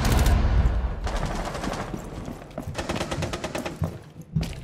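Rapid automatic gunfire in the Rainbow Six Siege video game, loud sustained bursts with short gaps and a final sharp shot, up close and without speech.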